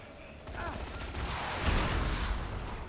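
Gunshots fired at the player in Dead Rising 3, a quick cluster of distant reports swelling into heavier, louder bursts at mid-volume, with a person talking over them.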